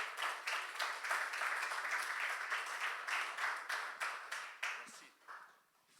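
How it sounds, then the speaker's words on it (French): A church congregation applauds a speaker being introduced, a dense steady clapping that fills the room and fades out toward the end. "Je vous prie de l'applaudir, s'il vous plaît."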